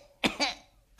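A performer's voice gives a short double cough, two quick throaty bursts in a quiet setting, during a Greek Karagiozis shadow-puppet play.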